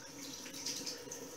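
A tap runs steadily into a sink for hand washing, a faint, soft continuous splash heard briefly with no voices.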